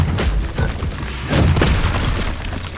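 A Bombarda spell bursts in Hogwarts Legacy as a loud, deep booming blast with a rumbling roar that swells midway and lingers, dense and close, with no clear talk over it.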